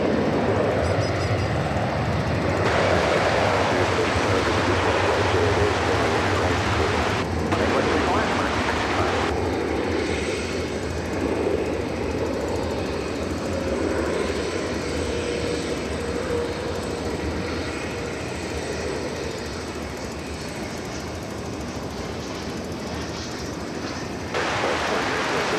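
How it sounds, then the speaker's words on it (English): American Airlines Airbus A321 airliner at DFW Airport, a broad roaring jet engine rumble that swells and persists, with spoken commentary over it. "I believe this to be American Flight 1304. An Airbus A321, and this one is going to be winging its way to Los Cabos"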